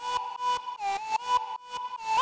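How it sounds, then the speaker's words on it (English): A dirty saw-wave synth lead from a future bass track plays a short choppy phrase of stabbing notes with pitch bends, clear and alone with no voices. "this first lead, which is much more of like a dirty kind of saw wave sound"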